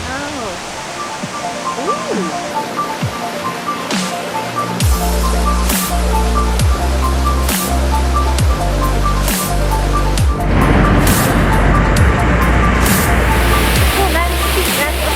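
Sgwd Yr Eira waterfall in South Wales, a steady broadband rush of falling water that swells louder as the falls come into view, with people talking and exclaiming close by over the roar.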